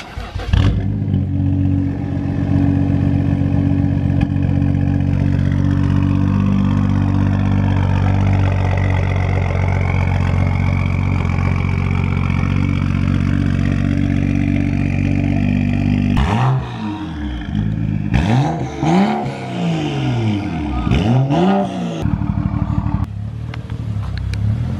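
A straight-piped BMW 335i turns over and settles into a loud, steady, rumbling idle, then gets blipped several times, with sharp rising and falling revs that ring out close by.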